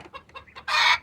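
Backyard chickens cluck in a short, close sequence of choppy calls that ends in a louder, drawn-out squawk, with no talking.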